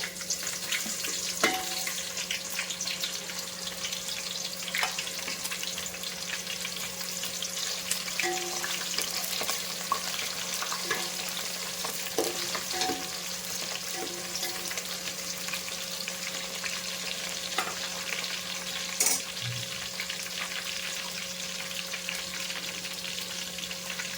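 Onion frying in hot oil for masala rice sizzles continuously up close, a steady crackling hiss with occasional stirring scrapes and clinks, no talking.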